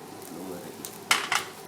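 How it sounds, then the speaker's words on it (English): Beans being stir-fried in a pan for shepherd's pie at home, with a soft sizzle and a few sharp utensil scrapes and clinks against the pan near the end, fairly quiet. "Just stir fry it"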